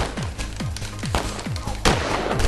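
Gunfire in a shooter video game rings out as a rapid string of sharp shots with descending zaps, about eight bursts in under three seconds, loud and close with no talk.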